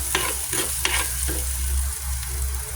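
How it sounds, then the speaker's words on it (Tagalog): Garlic and onion sizzle while being stirred in a hot pan for chicken curry: a steady close frying hiss with a few scraping stir strokes and a low hum beneath, no talk. "Okay, sote lang tayo ng bawang sibuyas."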